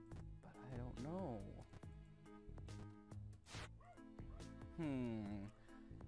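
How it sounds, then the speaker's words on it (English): Dogs barking, yipping and whining close by in a loud burst of repeated short calls with rising whimpers, mixed with other busy sounds. "My dogs are barking now."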